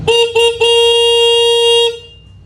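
A Suzuki Raider 150 motorcycle horn, sounded with the engine off on freshly redone wiring: two short toots, then a long, steady, loud blast close by that cuts off cleanly.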